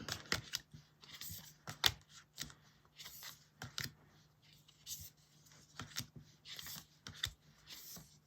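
Someone flips one by one through a stack of new cards, making soft, close, rhythmic papery snaps at a quiet level.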